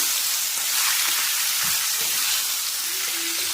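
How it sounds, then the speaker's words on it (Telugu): Grated raw mango is frying in a pan of tempering for mango pulihora, producing a steady, close sizzle and crackle throughout with no talking. "నెక్స్ట్ ఈ మామిడికాయ తురుము కూడా వేసేస్తున్నాను అన్నమాట."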